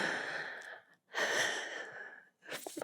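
A woman gasps sharply, close to the microphone, in an intimate ASMR roleplay: two breathy intakes of air separated by a brief silence, with a third breath starting at the end.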